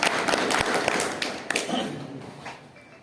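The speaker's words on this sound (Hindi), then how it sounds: "एक बार राजेंद्र यादव के लिए जोरदार ताली" Applause for Rajendra Yadav at a political gathering, a crowd clapping with scattered sharp claps and a noisy patter that fades over a few seconds, with voices mixed in.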